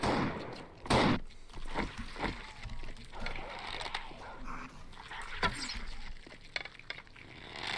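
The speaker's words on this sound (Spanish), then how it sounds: "Perros, perros." Zombie dogs in the survival game 7 Days to Die, barking and snarling in bursts amid gunfire and combat noise, a loud close hit early then scattered growls and yelps, no voices.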